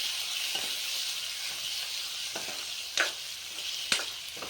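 Chopped tomatoes hitting a hot pan with peas and dried garlic, a steady close sizzle and hiss with a few sharp stirring clicks and scrapes over it.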